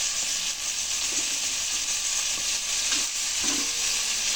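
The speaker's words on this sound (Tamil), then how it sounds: "நல்லா வதக்க போகிறோம்." White brinjal and two green chilies sauté in hot oil for a dry fish curry, giving a steady, close sizzling hiss with occasional stirring scrapes.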